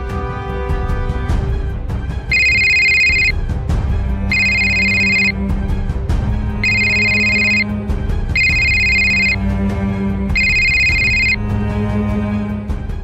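A landline telephone rings in a home before a call, five distinct electronic ring bursts in a steady repeating rhythm, loud and close, with no talking.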